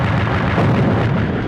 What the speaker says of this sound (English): you can just spam the gun until you hear an explosion